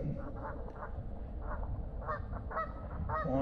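Geese honking in a loose, repeated chorus, moderately distant and overhead at a swamp, over a steady low rumble of wind or water.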